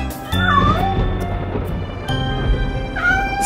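A voice imitates kittens meowing in a children's nursery-rhyme song about kittens who lost their mittens, two drawn-out rising and falling meows over loud, steady backing music.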